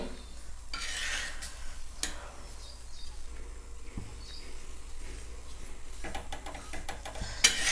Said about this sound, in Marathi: इथं पण तेल टाकून भाजून घ्यायचं आहे